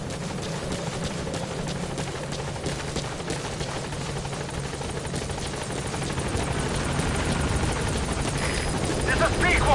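The Pequod helicopter from the Metal Gear game approaches a landing zone, rotor thrum steady and growing louder toward the end, while a radio voice speaks over it.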